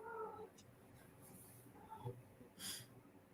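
A Siamese cat gives a couple of faint, short meows in a very quiet room, one near the start and another near the end.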